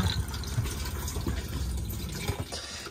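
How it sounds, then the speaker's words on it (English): Water rushes and gurgles steadily as a motorhome cassette toilet in an Auto-Trail V-line 610 Sport is flushed with a blue button, a continuous close liquid wash lasting a few seconds. "give it a good flush by again pressing that blue button"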